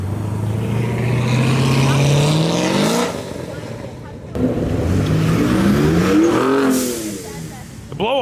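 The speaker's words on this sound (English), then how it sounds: "The blow off on the Raptor." Ford Raptor pickup hard-accelerating away from a car show, its engine climbing in pitch and then dropping as two sharp turbo blow-off whooshes burst out between gears, loud and fairly close.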